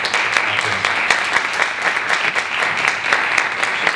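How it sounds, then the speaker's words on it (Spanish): Audience applause at a film festival industry presentation in Sitges, a steady, dense clapping from a crowd that stays loud and even throughout with sharp individual claps standing out. "O sea que un aplauso para Alejandro."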